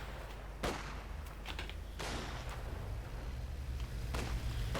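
Artillery and gunfire in Company of Heroes 2, including a light infantry gun: several sharp distant bangs spaced a second or two apart over a low rumbling battle bed, fairly quiet overall.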